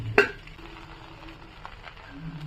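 Pre-cooked rice tumbled into a hot pan for restaurant-style egg fried rice, a sharp scrape and clatter at the start, then a soft steady sizzle and faint stirring.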